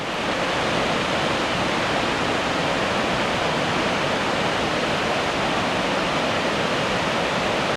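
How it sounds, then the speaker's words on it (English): Waterfall in Collingwood at a former power plant site, a loud, steady, broadband roar of rushing water heard close and unbroken throughout, with no voices. "I'm going to put a video up because you can actually hear the water rush down there"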